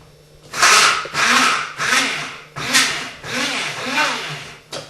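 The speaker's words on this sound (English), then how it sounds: "we are going to get some ginger into the little grinder" A small kitchen grinder grinding ginger runs in several short whirring bursts of roughly half a second to a second each, loud and close, with brief pauses between pulses.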